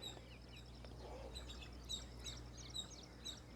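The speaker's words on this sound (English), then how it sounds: "I can hear the birds chirping, a gentle breeze is blowing" Birds chirp on a hill in the early morning, scattered short tweets at a distance over a faint low hum of wind, quiet and without talk.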